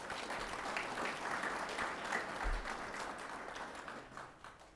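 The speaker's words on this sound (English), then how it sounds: "Please give them a big round of applause." An audience at the annual Tempe Mayor's Disability Awards applauds the event sponsors with dense, steady clapping throughout that tapers off at the end.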